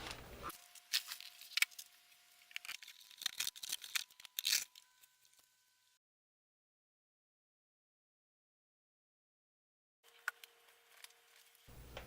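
A cardboard Amazon Japan package box is opened at close range with sharp tearing, scraping and crinkling bursts, then a long silent stretch before more rustling handling resumes.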